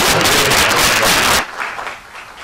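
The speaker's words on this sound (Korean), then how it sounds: "박수 한번 주시죠" Audience at a South Korean president-elect's victory speech and press conference breaks into loud, dense applause that holds steady, then cuts off abruptly partway through, leaving quieter room noise and scattered claps.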